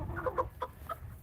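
Farm chickens, including two roosters, give a few short clucks close by, spaced out over a moment of quiet background with no speech.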